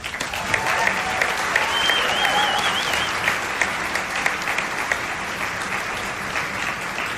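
A gala audience applauds in a dense, steady roll of clapping with a few sharper individual claps, sustained throughout and gradually easing.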